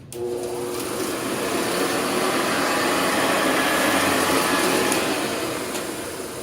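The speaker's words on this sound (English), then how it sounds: "Let's see how well it does on bare floors. I'm putting it on low." Hoover Convertible U4007 upright vacuum cleaner runs on a bare floor at its low setting, a loud steady motor whine and airflow rush, close and continuous throughout, with no voices.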